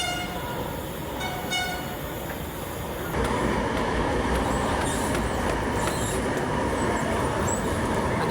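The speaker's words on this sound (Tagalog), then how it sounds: "Andito na po yung train." An LRT train on the line to Baclaran pulls into the station, its loud rumbling roar and wheel noise building as it arrives, with brief tonal horn-like whistles and rising motor noise mixed into the busy platform ambience.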